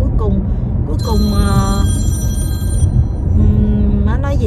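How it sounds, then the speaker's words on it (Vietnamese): A grandmother's telephone ringing loudly in a home, a bright warbling electronic ring in two bursts under ongoing talk and a low rumble. "Cái chuông điện thoại của bà ngoại hết hồn trời."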